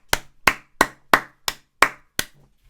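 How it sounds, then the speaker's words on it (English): Seven sharp, evenly spaced hand claps ring out, slow and deliberate, each about a third of a second apart, with a faint low hum underneath and no talk. "can we just get a round of applause for that?"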